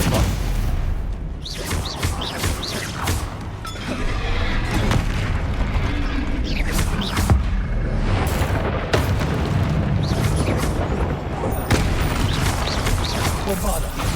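Repeated Bombarda blast spell explosions boom through a Hogwarts Legacy troll fight on Xbox Series X, heavy rumbling impacts in quick succession over continuous loud combat noise, with in-game voices calling out.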